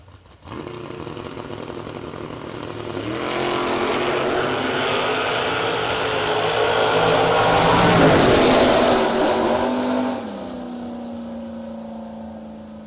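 A Chevrolet Chevelle door car at a drag racing event launches hard, its engine roaring loud and building steadily for several seconds before easing off and fading as it runs away down the strip.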